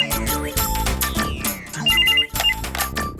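A telephone rings loudly and continuously with a bright electronic ringtone pattern that repeats several times, near and insistent.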